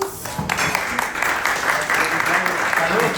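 An audience applauds a guest at a business talk, a steady round of clapping close by with some speech mixed in.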